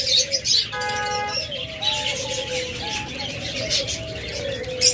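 Lovebirds in a bird shop give repeated chirps and tweets, while dove-like coos and calls from other caged birds overlap them. A steady hubbub carries on under the calls.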